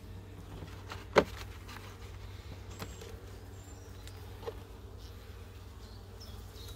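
Honey bees buzz faintly around a sparsely populated, nosema-infected hive outdoors, a thin, steady drone with one sharp click.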